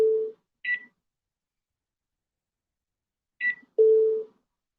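An alarm sounds in short electronic beeping tones, a pair of brief beeps followed by a long silence and then another pair, clear and fairly loud with no talking.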